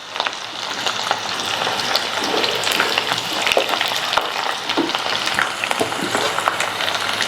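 Mustard seeds, urad dal, chana dal and garlic crackle and sizzle steadily in hot oil as tempering for cauliflower chutney, with sharp pops scattered over a continuous frying hiss and no talking.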